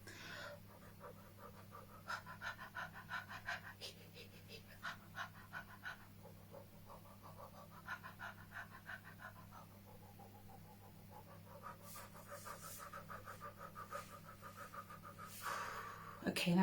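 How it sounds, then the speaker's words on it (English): Rhythmic panting breaths from a person doing a breathing exercise, repeated quick exhalations at close range over a steady low hum, with some talk mixed in. "I'm going to just do some panting instead"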